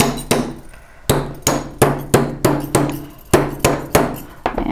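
A metal bracelet hammered flat on an anvil, about ten sharp, ringing metallic strikes at a steady rhythm, loud and close, with no talking.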